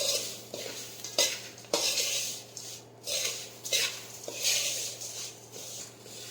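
A spoon scrapes and stirs fried peanuts through a dry poha chevdo mix in a metal pan, repeated scraping strokes in an uneven rhythm over a faint low hum.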